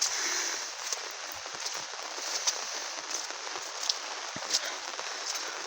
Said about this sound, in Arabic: الشتا ديال بصح.